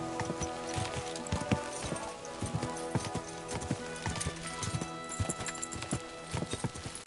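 Horse hooves clip-clop in a steady trotting rhythm in Kingdom Come Deliverance 2, fairly close with a faint musical bed behind them and no talk.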